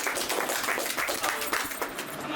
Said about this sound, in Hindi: उनके लिए जो है हम जोरदार तालियां चाहेंगे।